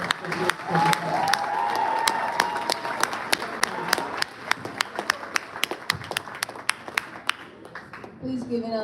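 Applause from an audience at a school sports awards dinner, a moderate wash of clapping that thins into scattered individual claps, with a voice briefly heard at the end.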